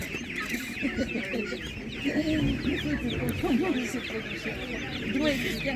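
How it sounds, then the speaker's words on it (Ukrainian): Tiny ducklings at an animal market peep and cheep steadily among clucking poultry, a constant close chorus of small calls with a faint voice in the background. "Це ж такі малесенькі каченята."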